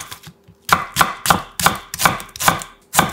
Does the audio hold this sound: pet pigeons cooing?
no